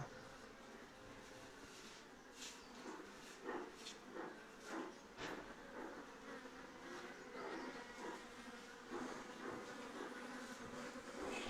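A large swarm of honey bees hangs near a wedding venue, its faint, continuous buzzing hum with individual bees flitting past closer now and then, soft and steady throughout.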